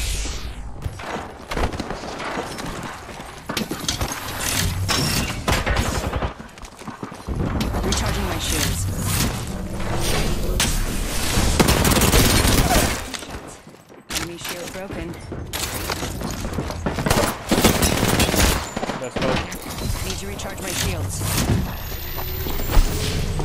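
Rapid bursts of gunfire in Apex Legends, dense and loud throughout a busy firefight with a brief lull midway, mixed with game effects and voices talking over the action.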